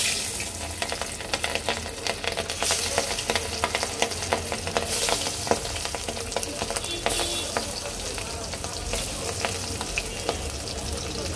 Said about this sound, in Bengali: एखन आमि माछगुलो हालका भेजे नेब